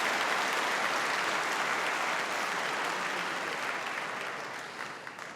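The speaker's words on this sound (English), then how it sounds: "One more big round of applause." Sustained applause from a convocation audience for a university big band, a dense steady wash of clapping that stays loud throughout and eases slightly toward the end.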